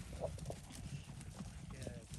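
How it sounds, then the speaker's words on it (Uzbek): Horse hooves clip-clop faintly on a road in Kyrgyzstan, a soft, distant, uneven patter beneath quiet voices talking nearby. "Qirg'izistonda otlar ko'p ekan"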